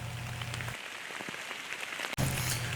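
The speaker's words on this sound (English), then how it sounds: "Rain, rain, and you guessed it, more rain." Steady rain pattering on a surface nearby, a continuous wash of drops with a brief break near the end.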